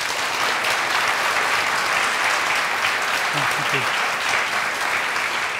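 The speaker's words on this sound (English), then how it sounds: "A warm applause" A conference audience claps steadily and loudly for several seconds after a speech, a dense, even applause with a few faint voices underneath.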